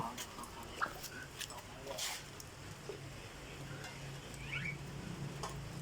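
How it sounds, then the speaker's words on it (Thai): A large, stubborn pet dog is heard faintly with a few soft whimpers and some panting over quiet background noise. "เจ้าสุนัขแสนรู้"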